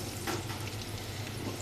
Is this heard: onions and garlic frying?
yes